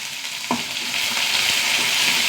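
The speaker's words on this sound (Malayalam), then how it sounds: "ഉള്ളി നന്നായി മൂത്ത് വരട്ടെ." Small shallots, curry leaves and a dried red chili fry in hot oil, making a loud, steady crackling sizzle with occasional stirring knocks and scrapes of a spoon against the pan.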